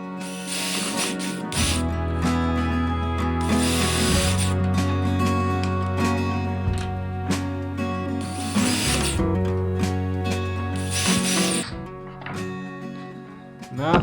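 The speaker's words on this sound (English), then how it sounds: "I'm going to be countersinking all of these" A power drill whines in repeated bursts as it bores and countersinks screw holes into soft polyethylene, with steady motor hum between grinding spurts and short pauses.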